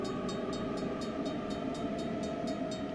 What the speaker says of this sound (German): Das ist ein langer, langer Zug.